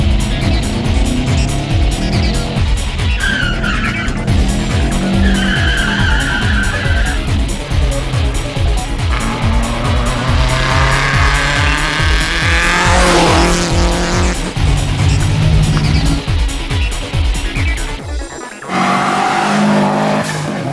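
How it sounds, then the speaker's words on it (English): A turbocharged four-wheel-drive Subaru slides around a skid pan, its engine revving hard and rising and falling under repeated tyre squeal as it drifts through turns, loud and close throughout before a brief drop near the end. "The skid pan and track were getting a four-wheel drive turbocharged workout."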